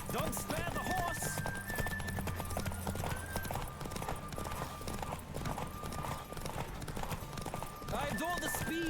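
Hooves clatter in a fast, steady galloping rhythm as a horse races in The Witcher 3, with occasional whinnies and background voices talking over the continuous clip-clop.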